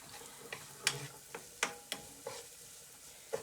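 Onions frying over medium heat in a fairly deep pan on a gas stovetop, stirred now and then: sparse, sharp scrapes and clicks of the utensil over a faint, low sizzle.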